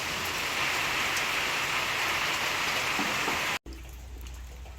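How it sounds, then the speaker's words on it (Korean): Steady rain pours onto a tin roof over an outdoor wood-fire barbecue in a country yard, a dense continuous hiss and patter that abruptly cuts off near the end, leaving a quieter low background. "이제 비가 그쳤네요."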